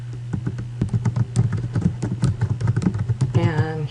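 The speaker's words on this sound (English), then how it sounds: "I'm just going to type in the name or the title of the book" Computer keyboard keys clack in a fast, steady run of close taps, with a low background hum underneath.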